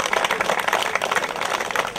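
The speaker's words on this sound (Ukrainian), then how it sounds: "Давайте вічними оплесками привітаємо наших олімпійців." Applause at a veteran kayak and canoe regatta honoring Olympic canoeists, with a crowd clapping steadily in a dense, moderately loud patter for a couple of seconds and no voices over it.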